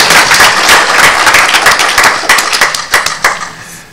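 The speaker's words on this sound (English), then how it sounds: "Ladies and gentlemen, a round of applause, please, for the president of the Burmese American Muslim Association." An audience at a community event claps loudly and continuously for several seconds. It is a dense patter of many hands that thins out and fades toward the end.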